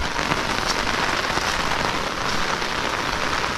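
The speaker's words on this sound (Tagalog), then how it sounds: "Grabe lakas talaga ng ulan" Heavy rain pours down over a bitter gourd (ampalaya) garden during flooding, a loud, dense, constant hiss of drops drumming on surfaces nearby.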